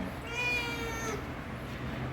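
A house cat, a female, gives a single drawn-out meow close by over a low background hum.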